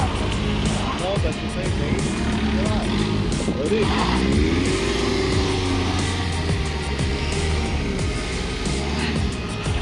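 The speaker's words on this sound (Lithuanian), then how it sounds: "Tu negazuok tiek daug" A car engine revs with a low rumble and a rising pitch sweep in a winter setting while someone prepares to drive out, with people talking over it throughout.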